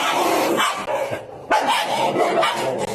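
German shepherd and small pit bull or Staffordshire-type dog barking in quick close bursts, loud overlapping yaps and woofs with a short gap midway.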